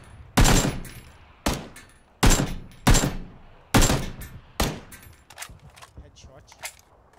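Gunfire in the battleground video game Quad Xtreme 3.0: several sharp, loud shots in quick bursts with short echoing tails, then softer scattered pops toward the end.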